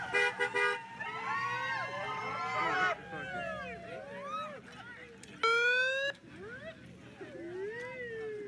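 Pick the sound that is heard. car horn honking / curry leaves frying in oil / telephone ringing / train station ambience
car horn honking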